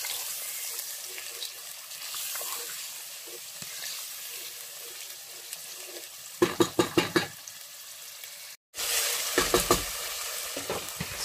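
Efo elegusi ingredients being stirred in hot oil in a pot, a soft sizzle with light scraping that builds into a burst of rapid rhythmic stirring clatter, a brief cut, then more vigorous mixing.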